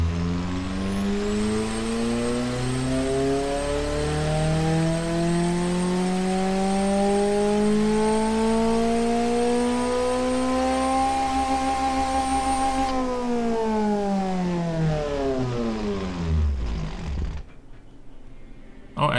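A simulated car engine with a single straight-through muffler in the Automation game, the other muffler deleted, climbs in a long rising rev toward the redline, holds, then drops away and cuts off; it is loud, raspy and close.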